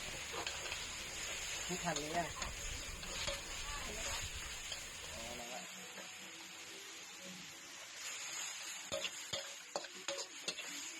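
Chicken curry with pickled bamboo shoots being stir-fried in a pan gives off steady sizzling and hissing, broken by the scrape and tap of a stirring utensil, with someone talking over the cooking for much of it.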